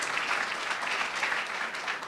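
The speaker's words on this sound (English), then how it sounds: "Yeah, you can give him a round of applause for that." An audience at an October 2014 Charleston meeting gives a steady round of applause, dense clapping of even loudness filling the short stretch without any talk.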